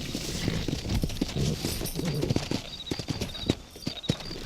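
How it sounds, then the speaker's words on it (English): Horses trot in the Western video game Red Dead Redemption, with steady clip-clop hoofbeats running throughout over a rustling outdoor background, close and fairly loud. "Let's get back on the horses and see what else is going on."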